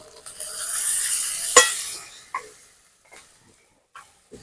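Ground cumin, coriander and dried chilli paste sizzling in hot oil for a fish curry, a steady frying hiss for about two seconds with a sharp stir knock, then fading to a few light scrapes and taps.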